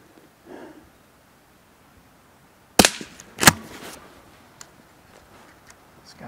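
Rifle shot from a Blaser R8: a sharp, loud crack stands out from a quiet outdoor background, followed moments later by a second strong impulse that trails off into low rustling.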